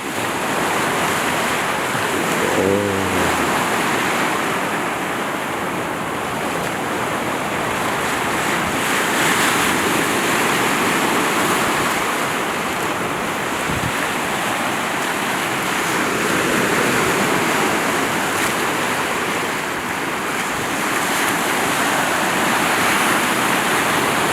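Waves of the East Sea wash onto Hwajinpo beach in Goseong in late autumn, a loud continuous roar of surf with heavy wind buffeting the microphone and no talking.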